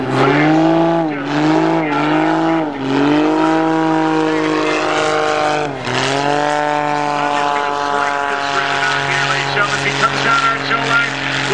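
A loud, sustained engine roar from Skip Stewart's aerobatic airplane slipping hard over the Janesville, Wisconsin air show, its pitch dipping and surging several times as the pilot works the throttle, with a commentator talking over it.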